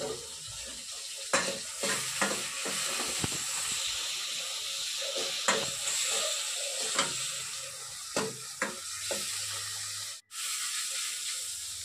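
Onion paste sizzling and frying in a pan for a potato and pointed gourd curry, with a continuous hiss and repeated scraping stir strokes at uneven intervals, close up and without talk.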